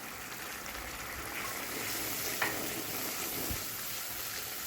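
Mutton pulao masala with salt, chili, turmeric, dried coriander and garam masala fries in a pot, a steady, soft sizzling hiss running throughout with one brief clink midway.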